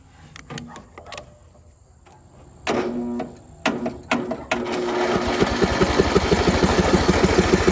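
A Craftsman LT1000 lawn tractor, left sitting outdoors, being jump started: a few sharp clicks and short cranking bursts, then the small engine catches and settles into a steady, close, chugging run.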